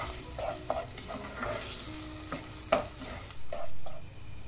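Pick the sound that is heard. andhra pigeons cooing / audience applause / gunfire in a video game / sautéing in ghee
sautéing in ghee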